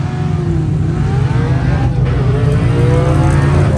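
Rally race cars roar past at close range during the Redwood Rally, engines accelerating with a loud, steady drone and rising pitch sweeps as they pass, no talk.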